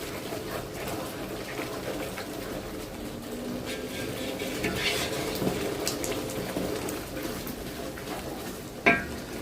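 Chicken lightly fries in a pot for morog polao, a steady moderate sizzle with stirring and a wet, watery texture, ending in one sharp utensil knock.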